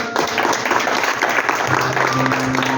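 A church congregation applauding, dense steady clapping that fills the whole stretch, with a faint tone rising underneath near the end.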